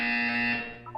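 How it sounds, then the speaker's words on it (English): A harsh electronic buzzer from the Portal 2 test chambers blares for about half a second, loud and steady, then fades out with a brief tonal blip at the end. "When you hear the buzzer, look up at the ceiling."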